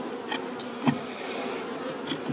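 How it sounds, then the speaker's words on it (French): A few honeybees with dampened wings inside a small box for a queen hum faintly and steadily close up, with a couple of short sharper buzzes or taps breaking through. "je suis allé chercher quelques abeilles, je leur mouille un peu les ailes"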